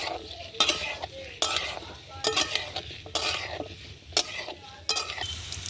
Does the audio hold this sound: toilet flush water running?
no